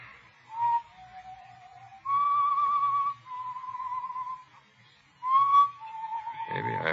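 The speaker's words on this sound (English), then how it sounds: "But I heard that whistling again. That same tune." Someone whistles a slow tune, clear, pure notes held and sliding between pitches, alone with no talking, ending on a brief rustle.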